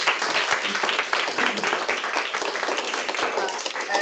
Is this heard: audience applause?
yes